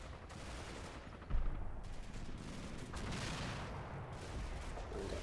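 Gunfire in the World War II tactics game Combat Mission, Normandy hedgerow fighting: a sharp burst early on, then continuous rattling volleys of rifle and machine-gun fire, fairly faint and distant.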